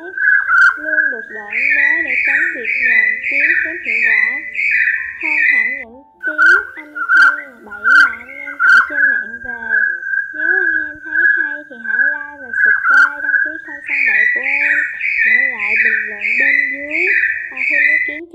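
Male and female hill partridges (gà so núi) call together in a loud, close recording: repeated clear whistled notes, rising rapid chattering series and trilling phrases with short pauses between bursts, and no talk.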